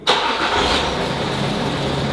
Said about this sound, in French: Démarrez le véhicule.